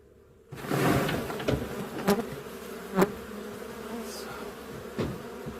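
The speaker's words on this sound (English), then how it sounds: "Going to shake off these bees." Honey bees shaken off a hive frame while boosting a weak colony: a close, dense buzzing swarm rises suddenly and keeps droning, broken by a few sharp knocks of the frame against the box.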